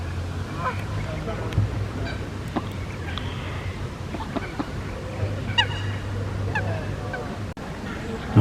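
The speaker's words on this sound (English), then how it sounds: "this week all the Canada geese are actually on the water" Canada geese on the water at Queens Park honk repeatedly in scattered calls at a moderate distance, over a low background rumble.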